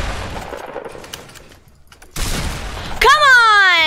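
Video game gunfire breaks out in a sudden loud burst of shots, followed by a bright rising electronic whine, with some background game noise before it.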